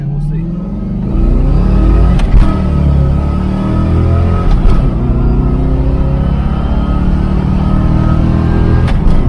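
A small coupe's engine pulls from a rolling start, a loud close rumble whose pitch climbs steadily through several gears of revving over about nine seconds.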